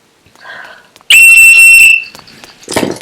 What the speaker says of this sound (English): He was blowing his whistle.